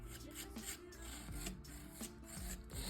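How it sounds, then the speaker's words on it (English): Decoupage paper being rubbed by hand onto a coaster to create texture, quiet rhythmic scraping and brushing strokes repeating steadily at close range. "So here I'm just rubbing this as much as I can."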